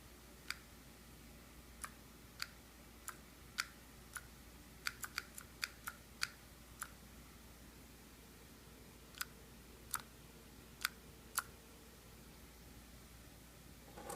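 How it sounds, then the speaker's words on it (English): Sharp, isolated clicks from a micro switch wired to an LED-Wiz controller, pressed repeatedly at irregular intervals over a quiet, faintly hissing background. "Every time I click it, it will illuminate."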